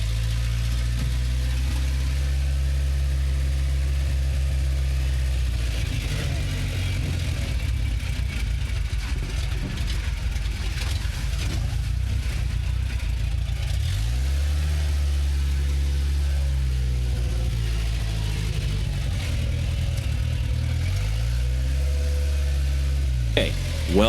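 A police SWAT truck engine runs steadily at idle, a loud low rumble with a couple of slow revs rising and falling, heard close.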